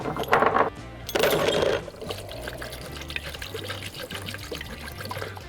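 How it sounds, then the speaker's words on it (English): Metal hardware tipped into a bucket of phosphoric acid rust remover: two loud splashing, clattering dumps up front, then liquid trickling and settling more quietly. "grab our bucket, throw our hardware in,"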